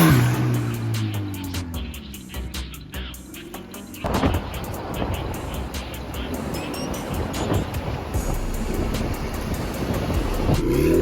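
A car engine idles after a long uphill drive, kept running to protect its turbo: a continuous, fairly loud broadband rumble with a heavy thump partway through.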